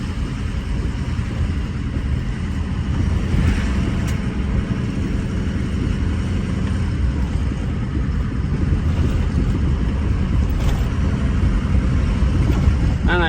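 A restored 1-ton truck's engine drones steadily from inside the cab on the road, a continuous loud low rumble with someone talking over it now and then.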